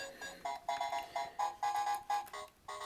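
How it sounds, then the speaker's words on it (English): A mini Skee-Ball arcade toy plays an electronic sound effect of balls rolling down the track, a rhythmic string of bright, ringing beeping pulses at even intervals. "simulation of the balls going down the track"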